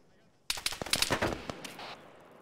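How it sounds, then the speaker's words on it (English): Coaxial machine gun on a BMP in the military shooter Squad fires a sudden dense burst of sharp rapid cracks for about a second and a half, then a fainter trailing rattle that fades out. "that fucking gun on the BMP, the coaxial's got us pinned down back here"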